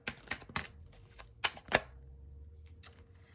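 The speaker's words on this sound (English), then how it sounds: "It's hard for me to think and shuffle at the same time." Several quick papery riffles and slaps of tarot cards being shuffled, close by, in short bursts separated by brief quiet pauses.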